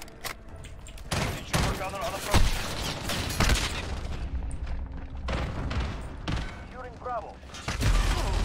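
Gunfire in the video game Call of Duty Modern Warfare 2019, with bursts of rapid shots and heavy booms in irregular clusters, moderately loud over game effects and a voice talking.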